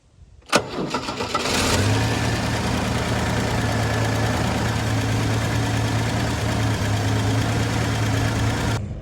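A 1972 Ford XA Falcon, off the road for 16 years, cranks briefly and catches with a sharp burst, then settles into a loud, steady idle with a faint knocking rumble running underneath to the end.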